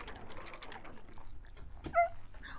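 A puppy whimpers in the video game Mimpi Dreams, a brief high, wavering whine near the end of a short stretch of soft game sounds, with a faint thump just before it.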